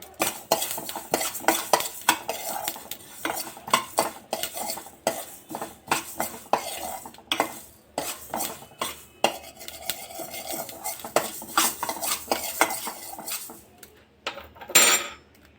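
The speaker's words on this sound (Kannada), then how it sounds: "ಸ್ವಲ್ಪ ಫ್ರೈ ಮಾಡ್ಕೋಬೇಕು ಮೆಂತ್ಯವು ಸ್ವಲ್ಪ ಸಾಸಿವೆ" Fenugreek and mustard seeds dry-frying in a pan while being stirred, giving a steady run of close scraping and clinking of a utensil against metal with light crackle underneath, continuous and busy, no voices.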